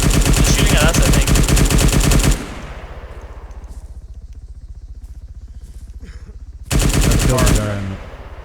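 Loud, rapid machine-gun fire from a video game rattles in sustained bursts, dropping to a quieter mechanical drone before another heavy burst of automatic shots.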